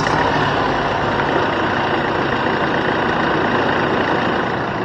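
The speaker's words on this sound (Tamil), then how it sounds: "வண்டியோட இன்ஜின் சவுண்டை கேட்போம்." A diesel car engine idles up close, loud and steady, with an even rattling chug that holds constant throughout and no voices over it.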